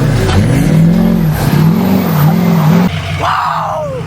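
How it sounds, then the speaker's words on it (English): A Ford 6.0 Powerstroke diesel pickup drifts in snow, its engine revving loudly in rising and falling surges, then lifting off into a sharp fluttering turbo chatter near the end. "Bro, my turbo flutter is insane."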